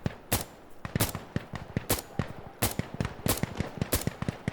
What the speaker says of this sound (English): So, like, I'm shooting there.